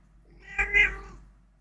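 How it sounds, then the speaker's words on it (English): A house cat gives a single close, clear meow, rising and falling over about half a second in a quiet room. "Who's a good kitty kitty? Yeah, you meow?"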